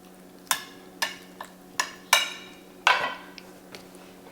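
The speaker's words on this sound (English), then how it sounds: "let's get a big old steak on here" A big steak going into a cast skillet for skillet-fried steak and eggs: several distinct metallic clanks and knocks spaced about half a second apart over a low steady hum, fairly close, with no talk.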